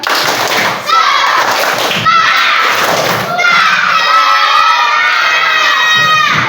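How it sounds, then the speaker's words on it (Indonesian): Fourth-grade schoolchildren in a classroom doing a rhythmic spirit clap, with quick bursts of clapping and loud excited group shouting and cheering, close and energetic throughout. "Tepuk semangat."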